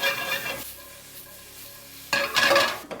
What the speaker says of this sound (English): we're just gonna add all the onions and our poblanos into the skillet. So we're gonna saute these until they're nice and tender